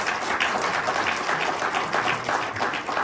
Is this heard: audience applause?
yes